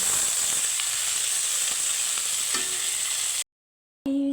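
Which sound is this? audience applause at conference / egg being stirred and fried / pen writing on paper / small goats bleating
egg being stirred and fried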